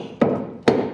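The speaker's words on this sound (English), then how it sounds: "If you hit them with a hammer," A hammer strikes small wooden cut-out pieces twice, each blow a sharp, close knock with a short ringing tail, about half a second apart.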